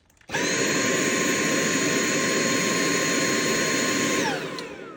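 A steady, high-pitched motor whine with a strained, airy roar from a Dyson V8 cordless vacuum with a blocked filter restricting airflow; starts abruptly, holds loud and constant, then winds down near the end.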